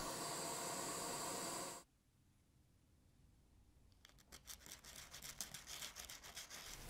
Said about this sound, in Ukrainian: Розплавимо і зальємо свинець чи припій.